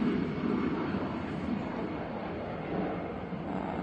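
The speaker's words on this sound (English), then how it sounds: "EasyJet A380 off to Geneva" An EasyJet Airbus A380 departing from Manchester Airport makes a continuous, broad jet roar at moderate distance, steady and fairly loud for the whole stretch, with no voices.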